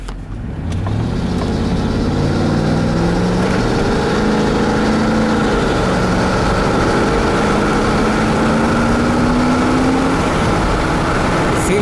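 A GMC Yukon SLT with a 5.7-liter 350 V8 drives along on a test run, its engine a steady, loud, close drone with slowly rising and falling pitch as it accelerates and shifts, with no talking.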